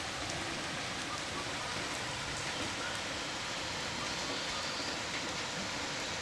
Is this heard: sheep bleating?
no